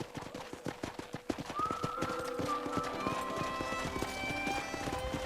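Horse hooves clip-clop in a quick, regular rhythm close by in Red Dead Redemption, while a sustained tonal sound drifts over the steady steps.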